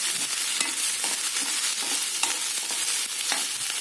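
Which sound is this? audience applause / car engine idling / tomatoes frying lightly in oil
tomatoes frying lightly in oil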